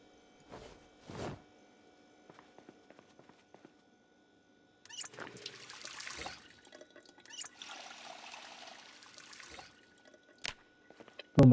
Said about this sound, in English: Fill my water.